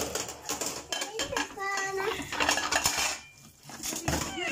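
Dishes and cutlery clink and clatter in running water, with someone talking over the washing-up sounds.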